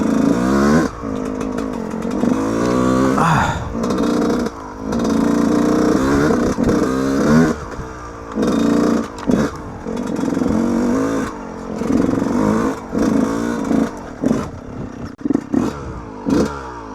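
A Yamaha YZ125 two-stroke dirt bike ridden on an off-road trail, its engine buzzing loudly and close, revving up and dropping off repeatedly with brief throttle cuts and rattling clatter throughout.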